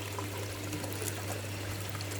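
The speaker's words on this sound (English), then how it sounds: "that's still got a little bit too much water coming through anyway" Water trickling and splashing steadily out of an aquaponics grow bed, a continuous close pouring sound over a low constant pump hum, with no voices.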